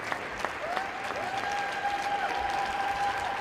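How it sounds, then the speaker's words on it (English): At a 2025 artistic gymnastics World Cup event final in Cairo, a crowd applauds steadily for a gymnast, with dense clapping and a thin whistle or cheer held above it. "you can hear that in the reaction from the crowd and his fellow gymnasts"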